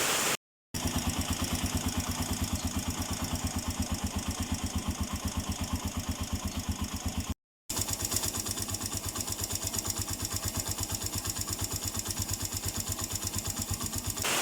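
A Suzuki GS motorcycle engine with a ticking noise idles close by, a fast, even mechanical pulse running steadily throughout, broken by two brief drops to silence, with no talk.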